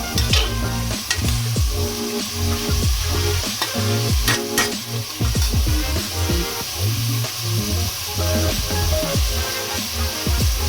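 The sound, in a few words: food frying and being stirred in a pan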